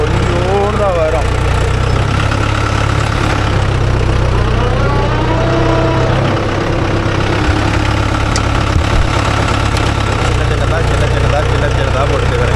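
A Mahindra Arjun Novo 605 DI tractor engine runs steadily with a rotavator, a loud continuous low drone and rumble close by throughout, with a voice speaking over it.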